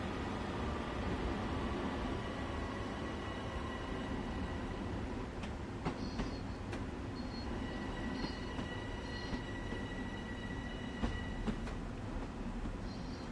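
An LIRR train in Train Sim World accelerates with a steady, continuous rumble of wheels on rails, with faint rhythmic clicks and occasional high squeals and tones.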